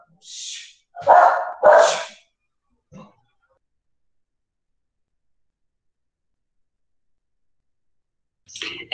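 A pet dog at home gives a few sharp barks in quick succession, loud and close, then falls quiet for several seconds before another bark starts at the end.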